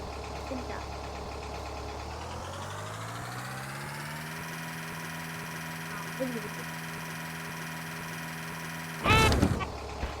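Vehicle engine in a video game, a steady idling hum that rises in pitch and then holds, with a short loud burst near the end, under talk.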